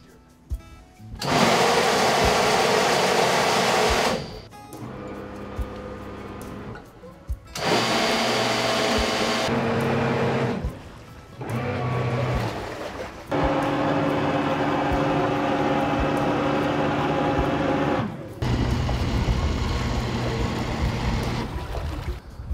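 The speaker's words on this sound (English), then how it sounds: "with the on-off thrusters, we're pulsing full power on. So the equipment itself is a lot noisier when it's full power on." Side-Power on-off bow and stern thrusters on a boat pulse at full power in several loud bursts of whining, churning motor noise, each lasting a few seconds and separated by short quieter gaps.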